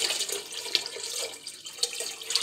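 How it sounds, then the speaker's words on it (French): Tap water runs steadily into a cooking pot being filled with three litres for laundry, giving a continuous splashing rush with a few small clinks, close by and moderately quiet, with no talking. "Je remplis une nouvelle cocotte avec 3 litres d'eau."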